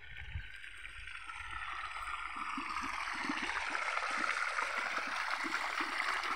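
Water flowing through a chilli farm makes a steady rushing, gurgling hiss that swells gradually louder, with soft low thuds underneath.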